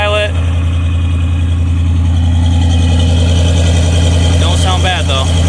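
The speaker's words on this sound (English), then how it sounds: "see how this big block sounds to Flowmasters" A big-block engine in a C60 truck with Flowmaster Super 10 mufflers idles with a deep, steady exhaust rumble throughout, loud and close, with a brief higher whine near the end.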